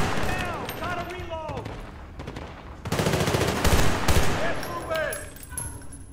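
Rapid bursts of gunfire and explosions from the jungle mission of the video game Battlefield Bad Company 2, loud and close, with heavier volleys in the middle and people talking over it.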